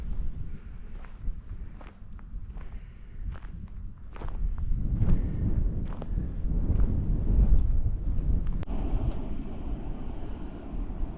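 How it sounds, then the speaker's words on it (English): Wind blowing across a beach at a September wild camp, a low, steady buffeting rumble on the microphone that strengthens midway with a few soft knocks and no talking. "Would be nice if the wind died down a bit"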